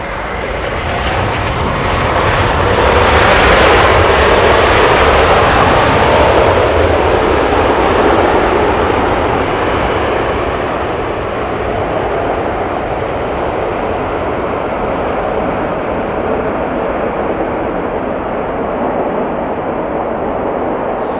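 A British Airways jet airliner lands at Los Angeles International Airport in the evening, a powerful, sustained engine roar that rises as it passes overhead and then slowly fades, with no voices.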